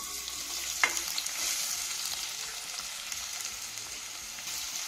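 Onions frying in hot oil in a pan while cooking a capsicum palya: a steady, even hiss with a single sharp clink near the start and a few faint scrapes, close and moderately quiet.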